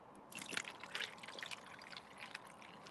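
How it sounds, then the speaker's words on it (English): Iced coffee pours over a tumbler packed with ice, a faint, continuous trickle with light splashing and crackle. "You just pour this over the ice"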